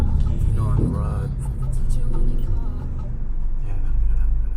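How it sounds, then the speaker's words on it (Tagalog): Road traffic on the mountain road up to Baguio rumbles low and continuous around a vehicle, with engine hum and passing motor noise, while people talk casually over it throughout. "ang traffic."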